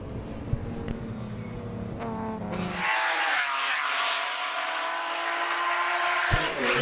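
A detuned Class E race car driving an autocross course at a regional event, a close engine drone that shifts up in pitch as it accelerates and then holds a steady higher roar with light tire noise.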